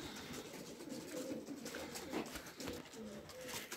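Soft pigeon coos rise and fall a few times over faint outdoor background noise, quiet and somewhat distant.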